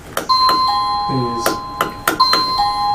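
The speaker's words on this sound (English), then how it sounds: "I'm going to ring the doorbell." A doorbell rings with a series of clear, ringing electronic chime tones over several seconds, mixed with people talking nearby.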